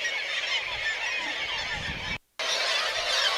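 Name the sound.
black-legged kittiwakes calling near nesting rocks at sea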